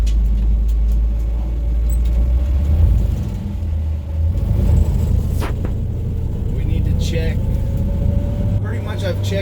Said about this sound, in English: Drives definitely better than most old cars I grew up